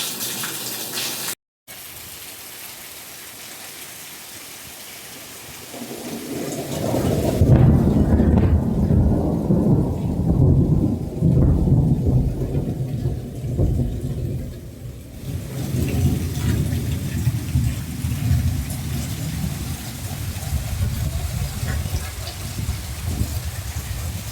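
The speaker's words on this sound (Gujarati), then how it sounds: "બહુ જ વરસાદ છે" Heavy rain pours at a family home, starting as a softer wash and swelling into a loud, continuous roaring downpour that holds steady with slight surges.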